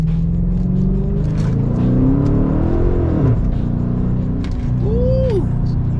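A Chrysler 300 revs hard on a cold day as its wheels try to spin, with a loud, continuous, close engine roar and rumble that swells and eases slightly.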